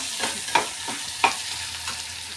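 Tomatoes sauté in a pan with a continuous sizzle, punctuated by a handful of sharp spoon scrapes and clinks at uneven intervals, close and fairly loud.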